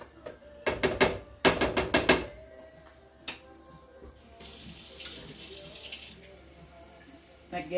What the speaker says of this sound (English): Again, I'm gonna add a little bit more water.